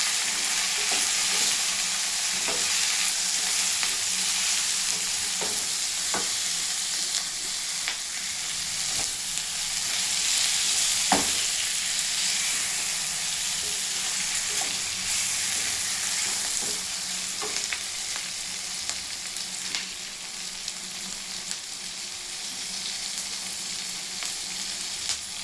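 Three small tomatoes sizzle steadily in hot oil in a pan for bean and lentil sambar. The frying hiss runs unbroken from start to end, with occasional soft stirring clicks.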